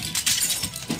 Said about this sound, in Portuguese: e acaba batendo em uma árvore.